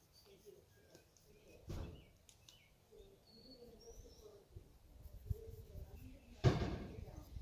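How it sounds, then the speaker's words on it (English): Birds chirp faintly in the distance across Crex Meadow, thin scattered calls over a quiet outdoor background, with a couple of louder bumps. "listen to some of those birds there"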